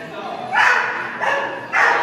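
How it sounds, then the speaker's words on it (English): Three sharp, strained dog barks come in quick succession, each tense and slightly whiny, close by and fairly loud. "So there's like a very anxious kind of edge to this barking."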